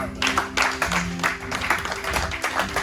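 A church congregation claps and cheers in praise, with rhythmic applause and voices rising together across a broad, lively wash of sound.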